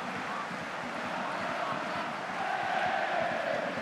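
A football stadium crowd at a Middlesbrough versus Sheffield United Championship match applauds a substituted player, a steady broad roar of clapping and noise that swells slightly toward the end, heard from a distance.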